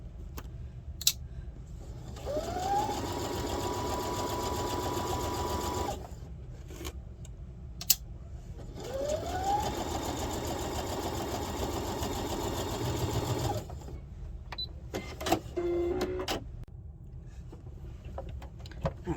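A sewing machine runs back and forth to lock stitches on a fabric pouch, making two long, even motor whirs with a rising start and a pause between them, plus a few small clicks.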